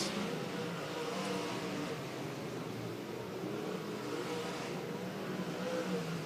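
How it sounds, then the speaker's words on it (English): Sprint cars race on a slick track at Antioch Speedway. Their engines blend into one constant, loud roaring drone with no clear breaks. "As you can see, these sprint cars are very fast on this nice, slick racetrack right now."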